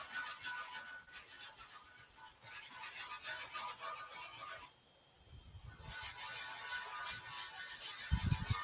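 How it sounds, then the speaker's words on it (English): Sandpaper wrapped on a sanding board rubs lightly in small circles over a tank, a steady close rasping scrape with a brief pause midway. "I like to hold the board where just the edge of that sanding board, but with the sandpaper on it, of course,"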